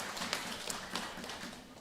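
Hand clapping from a church congregation during a Simalungun-language Sunday service, a dense scattered patter of many hands at moderate distance.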